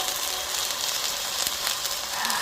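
Homemade Sindhi-style beef burger patty frying in a pan, a steady dense sizzle with faint crackles throughout, loud and close with no talk.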